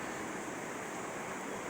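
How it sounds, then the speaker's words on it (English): Water runs off a residential driveway on Searles Lane and spills onto the road, a steady, close, even rushing wash with no pauses and no voices. "Look at the water coming out of my driveway."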